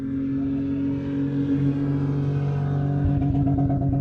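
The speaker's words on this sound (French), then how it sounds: "Younes, il serait devenu fou là, avec le bruit de la voiture." A car engine hums and rumbles at a low, steady pitch, droning continuously and fairly close with no voices.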